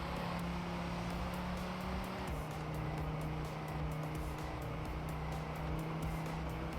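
A race car in TrackMania² Canyon holds a steady, continuous engine drone at high speed, the pitch stepping down once at a gear change. Tire noise runs underneath throughout.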